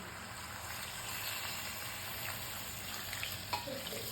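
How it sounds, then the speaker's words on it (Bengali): Hot water pours into a pot of simmering shukto made with bitter gourd, eggplant, mustard paste and lentil dumplings, giving a soft, steady watery hiss with faint bubbling throughout. "আর একটু গরম জল দিচ্ছি"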